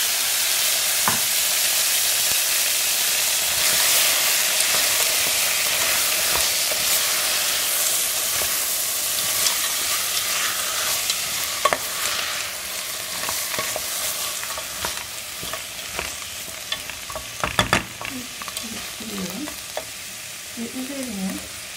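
Fresh white beans stirred into tomato paste frying in a pot: continuous moderate sizzle with scattered scraping and clinking stir strokes, no talking.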